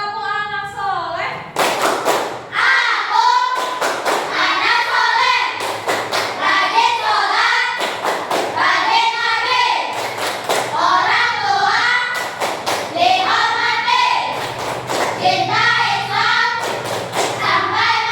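A classroom of children performs a patterned clap cheer together, repeated groups of loud claps in a steady rhythm interleaved with chanted voices, close and lively.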